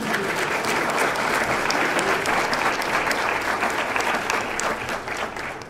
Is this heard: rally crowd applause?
yes